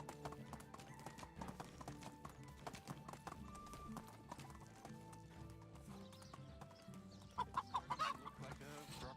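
Horse hooves clip-clop at a steady rhythm in the Medieval Dynasty video game, close and continuous over game music, with chickens clucking and a horse whinnying near the end.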